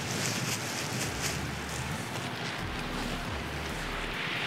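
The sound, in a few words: wind outdoors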